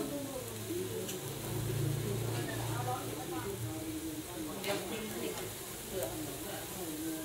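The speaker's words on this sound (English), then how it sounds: "You can cook it like this over a charcoal fire." Sun-dried fish cooks over a charcoal fire in Thailand with a soft, steady sizzle and crackle, largely masked by nearby talking and outdoor background noise.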